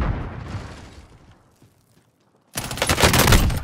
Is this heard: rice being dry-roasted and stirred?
no